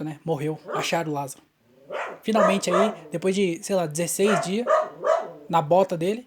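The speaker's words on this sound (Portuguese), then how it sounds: "Olha o cachorro latindo." A dog barks repeatedly nearby, several quick woofs mixed in under someone speaking steadily in Portuguese, with the barks partly masked by his voice.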